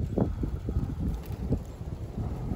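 Steady wind buffets the microphone outdoors while someone tries to ignite charred punk wood with sunlight through a hollowed bulb, a continuous low rumble with gusty swells and small rustles throughout.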